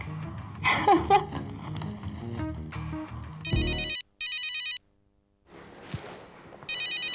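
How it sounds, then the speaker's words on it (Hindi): Phone ringtone for an incoming call, a bright repeating electronic tone in bursts, interrupted by short gaps, sounding over background music and scene sounds in a drama. "अभय, दी का फोन है।"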